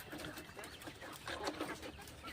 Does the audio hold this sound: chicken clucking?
yes